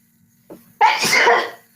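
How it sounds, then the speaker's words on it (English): A single loud, close sneeze with a short intake of breath just before it, in an otherwise quiet room. "sorry, I had to sneeze."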